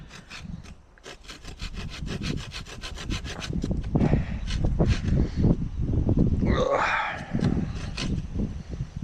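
A hand saw cuts through wood in steady back-and-forth strokes, close and rasping, the rhythm quickening and slowing as the blade bites, no speech heard.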